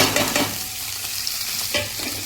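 Capsicum, onion, garlic, ginger and green chili frying in a pan, a loud close sizzle with scraping stirring strokes throughout.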